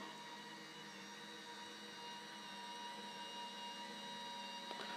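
Two Movetec MAC2 aluminium lifting columns drive together with a faint, steady electric motor hum and whine that holds evenly throughout, ending with a small click.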